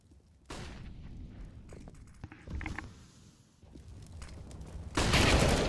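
Flashbang grenade popping in a Counter-Strike match on the Dust 2 map, among scattered clicks and thuds of game action, then a loud bright bang near the end.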